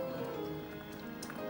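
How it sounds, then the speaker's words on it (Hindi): Steady rain patters and drips on surfaces at a constant, moderate level, a soft wash of drops with no voices over it. "बारिश हो रही है।"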